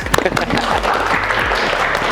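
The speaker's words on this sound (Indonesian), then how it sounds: "Kita tepuk tangan dulu ya" Audience applause during a best-practice presentation, steady dense clapping filling the room for about two seconds, with a voice speaking over it.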